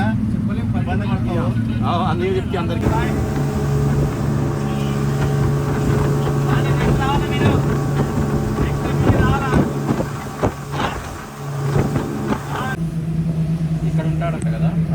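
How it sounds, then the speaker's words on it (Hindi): A tourist boat sets off from Coral Island near Pattaya, Thailand, its engine droning steadily with wind buffeting the microphone and a broad rush building as it gets under way, while people talk throughout. "अपनी ये बोट रेडी टू मूव हो गई है और we are departure from coral island"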